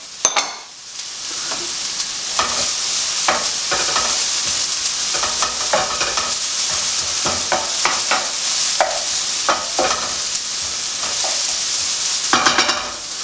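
Onions and chilies for a fish curry frying in a pan, a steady close hiss of sizzling oil with intermittent scrapes and clicks of stirring and a brief clatter near the end.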